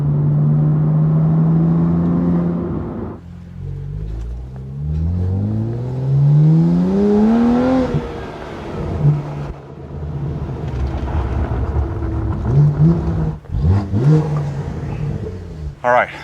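A BMW M2 CS with a Carbahn stage 2 piggyback tune accelerates hard. Heard from inside the cabin, the engine note rises repeatedly through the gears, with a drop in pitch at each shift, while a person talks over parts of it.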